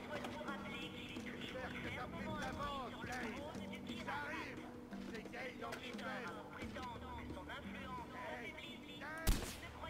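A single sharp, loud gunshot near the end from the game Far Cry 4, following a stretch of game ambience with faint background voices.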